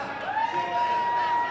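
Wrestling fans cheer and whoop from the arena stands during a women's match, a steady crowd roar with a few shrill voices rising above it throughout.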